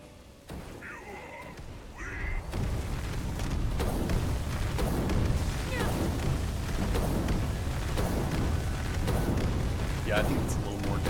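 Explosion spell in modded Skyrim: after a quiet start, a heavy burst gives way to a sustained rumbling, crackling roar with repeated booming pulses, while someone talks over it.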